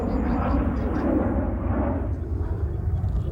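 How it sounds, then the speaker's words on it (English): Aeroplanes passing overhead near a carp fishing lake, a loud broad rumbling roar that fills the clip and starts to ease toward the end, with a voice mixed in beneath it. "we've got 5 seconds between the aeroplanes"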